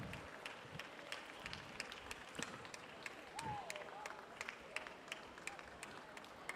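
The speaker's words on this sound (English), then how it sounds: "All that cheering worked." A crowd cheers and claps in a swimming pool hall as a swimmer finishes a county qualifier race, a steady wash of applause with sharp hand claps scattered throughout.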